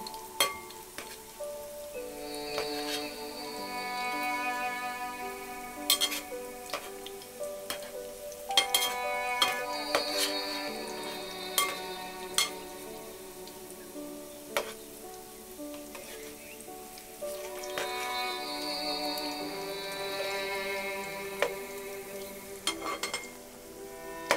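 Chicken vadalu frying in oil in a pan over medium flame, a steady crackling sizzle with occasional sharp pops and clinks of a utensil, and swells of bubbling as pieces are added or turned.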